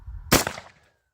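A single sharp M1 Garand rifle shot fired at an outdoor target, a loud crack with a brief decaying tail and no talk over it.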